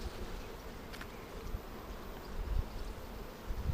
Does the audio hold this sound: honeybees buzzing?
yes